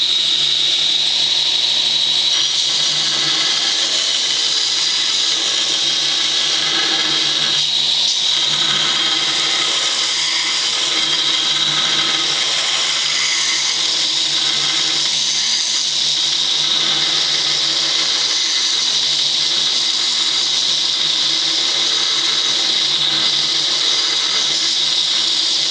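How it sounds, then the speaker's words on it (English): A grinder flat grinding a steel knife blade gives a steady, loud high-pitched whine that holds almost unbroken throughout, close and alone without voices. "Flat grind going here."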